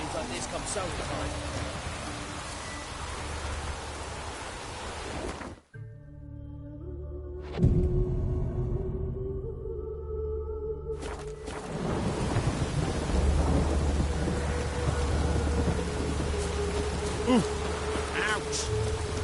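Rain and rolling thunder in the video game The Witcher 3: Wild Hunt, a broad steady downpour that cuts out briefly, then a long low rumble before the rain returns, with a voice talking over it.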